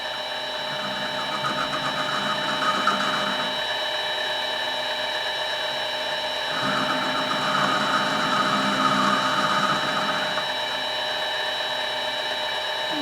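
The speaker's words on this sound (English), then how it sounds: "I'm going to crank it in because I need to take the burr off the edge here." A mini lathe turns steadily while a tool takes the burr off the edge of a part for a B3 pellet gun repair, giving a continuous whirring motor tone with a slightly rising, grinding cut in the middle, close and alone.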